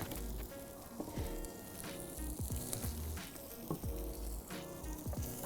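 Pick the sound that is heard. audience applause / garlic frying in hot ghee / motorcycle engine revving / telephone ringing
garlic frying in hot ghee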